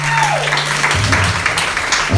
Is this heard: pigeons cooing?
no